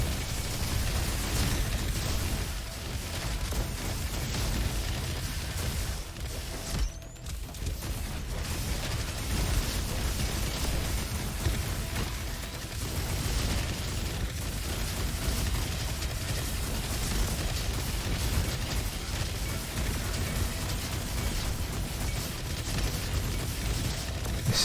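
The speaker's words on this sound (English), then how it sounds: "This is just craziness. The amount of explosions." Dense, continuous barrage of video game explosions and missile blasts, loud and sustained with rumbling booms and bursts layered throughout, no talking over it.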